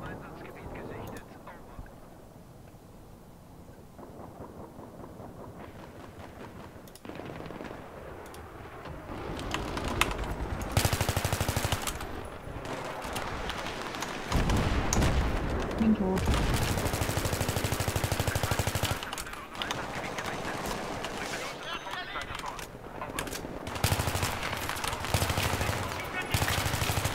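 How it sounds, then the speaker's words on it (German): Sustained bursts of automatic machine gun fire in Battlefield 3 multiplayer combat, several loud rattling volleys in quick succession with brief pauses between, alongside other game sounds. "Ich habe ein halbes Magazin in den reingedrückt und er stirbt nicht."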